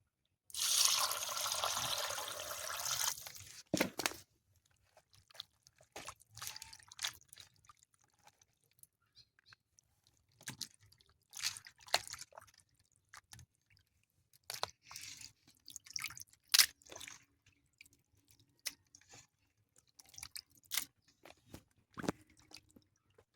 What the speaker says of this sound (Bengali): তো মাংসটা এবার ভালো করে জল দিয়ে ধুয়ে নেব